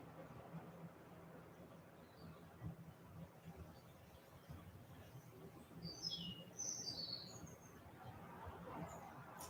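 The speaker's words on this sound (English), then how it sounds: "listening to the birds around" Faint high bird chirps flit in briefly over a soft outdoor hiss, a few quick calls in the middle of the stretch.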